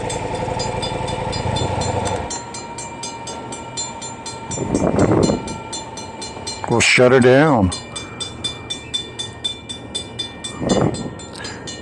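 A train passes on a main railway line beside a freeway, with a steady rumble of rolling wagons, a brief loud horn blast partway through, and rhythmic clacking toward the end while someone speaks briefly over it.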